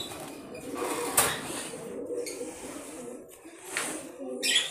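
White-headed tumbler pigeons coo softly in short, repeated calls, close and faint, with occasional brief rustles and a voice talking nearby.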